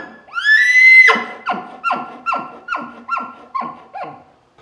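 A hunter's voice imitates an elk bark chuckle: a rising, squealing bugle note that breaks into about seven quick, descending grunting chuckles, loud and close with nothing else around.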